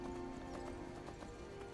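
Horse hooves clip-clop in Skyrim, a steady quick rhythm of hoof beats at moderate volume over a sustained tonal game backdrop.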